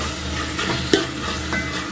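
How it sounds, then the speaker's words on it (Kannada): Potatoes frying in a pan, a loud steady sizzle with one sharp knock of a utensil near the middle. "ತೊಳೆದು ಸ್ವಲ್ಪ ಆಲೂ ಫ್ರೈ ಮಾಡ್ಕೊಂಡು ಇದ್ರಾಗೆ"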